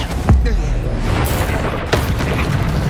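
In Hogwarts Legacy, a Confringo fire spell bursts with a loud, deep boom up front, followed by a rumbling blast tail and a second, lighter impact a moment later amid game noise.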